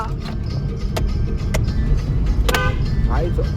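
A car horn sounds in three short honks after a roadside repair, cutting over a constant rumble of engine and traffic noise.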